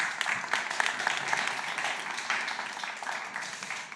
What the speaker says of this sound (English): Is that a round of applause?